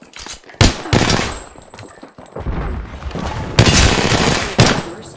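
Gunfire in the video game Apex Legends: loud, close bursts of rapid shots with a few sharper single cracks between them, separated by short pauses.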